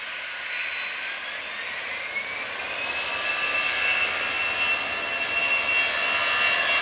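Jet engines of a Boeing 777 at Manchester Airport roar steadily in the distance, a broad whooshing drone with a rising whine that swells gradually louder across the whole stretch, no voices.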